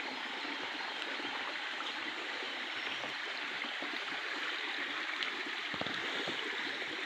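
Water surges steadily through a small stream bed filled by heavy rain, a dense continuous rush with scattered splashes and trickles, near and even in loudness, with no one talking.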